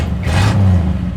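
A 1967 Chevrolet Impala engine revs up briefly with a deep, steady rumble that swells and then settles back to an idle hum.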